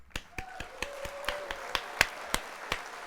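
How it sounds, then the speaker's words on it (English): A short applause sound effect: about a dozen sharp, separate claps or taps in an uneven rhythm over three seconds, clear and close with no voices. "Let's hit the old applause."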